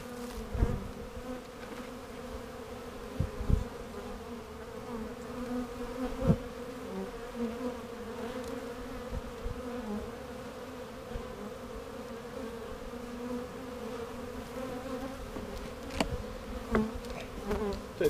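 Honey bees hum steadily around an opened beehive during an inspection, with occasional individual bees buzzing close by over a low continuous drone.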